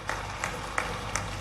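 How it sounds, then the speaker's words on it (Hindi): Applause from the audience at a political rally in Barkhedi, Bhopal, heard as a steady, moderately distant wash of clapping with a few louder bursts, lasting about a second and a half. "जोरदार ताली बजाओ यशस्वी प्रधानमंत्री"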